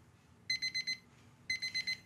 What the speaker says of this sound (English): time to turn off the timer and remove the eggs